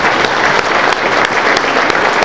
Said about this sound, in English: A minute's applause for Alan Wooler.